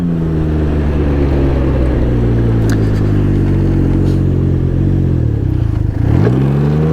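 A 2021 Can-Am Ryker three-wheeler engine revs loudly and close, a steady throbbing drone that dips and climbs again as the throttle opens.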